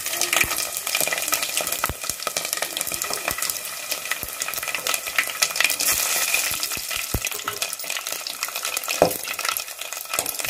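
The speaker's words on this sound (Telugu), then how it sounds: "ఇప్పుడైతే అత్తయ్య చిక్కుడు కూర తాలింపు వస్తుంది" A tempering for broad bean (chikkudu) curry sizzles loudly in hot oil. Sharp crackles and pops scatter over a continuous hiss, close and bright, and no voices are heard.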